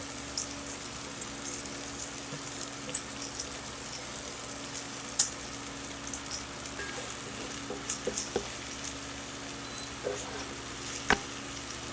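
Green onions and jalapeno pepper fry with garlic in a pan, a steady soft sizzle and crackle throughout with occasional sharp pops and utensil clicks, close and fairly quiet, no voices.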